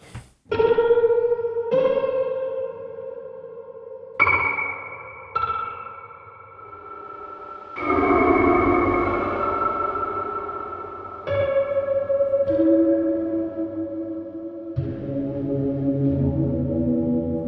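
A Westwood Alt Grand piano plays its Reverie texture, with struck notes that bloom into shimmering, echoing, effect-laden tones. Sparse chords ring out and swell into a hazy, sustained wash that decays slowly.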